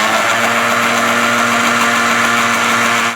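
A blender mixing eggs for cake batter whirs loudly and steadily at close range for a few seconds, then cuts off abruptly.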